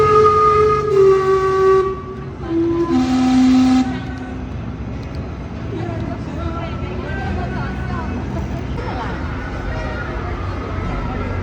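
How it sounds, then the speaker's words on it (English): The Gastown steam clock in Vancouver sounds its steam-powered whistles, two loud multi-toned chime blasts in quick succession, followed by crowd murmur and street noise outdoors. "The steam powers the whistles that produce a short chime every 15 minutes"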